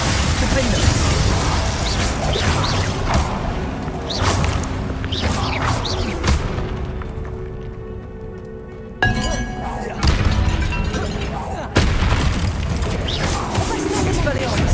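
Confringo and Bombarda spell blasts in the Hogwarts Legacy game, a busy run of whooshes, thumps and booming impacts with mechanical clatter, loud and dense, with a voice calling out during the fight.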